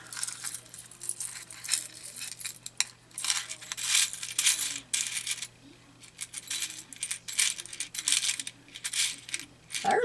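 Small metal page turners pour and clatter out of a container in repeated jingling bursts of a few seconds each, close and fairly loud, with short pauses between spills and no talk.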